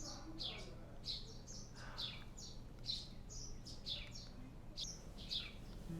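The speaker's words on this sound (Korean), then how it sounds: "새소리만 가득하네." Birds chirp outside an old 1935 wooden inn in the early morning, sharp bright calls repeating at roughly half-second to one-second intervals, soft and somewhat distant over a quiet low hum.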